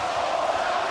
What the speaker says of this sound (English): the mini eruption of applause from a passionate home crowd